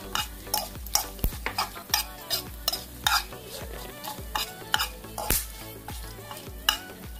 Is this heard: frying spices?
yes